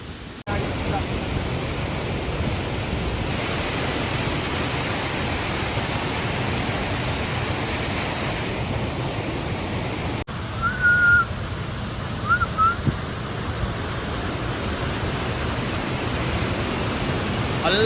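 Steady broadband rush of a waterfall near Agumbe on a Narasimha peak trek, continuous and moderately close, with a few faint bird calls over it.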